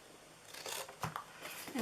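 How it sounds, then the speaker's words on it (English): Scissors snipping through paper while a mini pie bakery box is cut out, a few faint, close cuts spread over a couple of seconds with quiet crinkling between them. "And then we are cutting in here."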